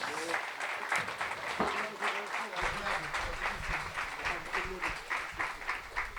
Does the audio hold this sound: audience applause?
yes